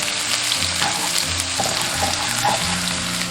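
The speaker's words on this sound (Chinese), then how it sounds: "融化过后下入葱姜蒜炒香" Scallions, ginger and garlic hiss loudly in hot cooking oil with a small lump of melted lard, a dense continuous sizzle with occasional stirring clatter, and no voices.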